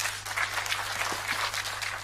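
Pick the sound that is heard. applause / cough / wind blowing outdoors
applause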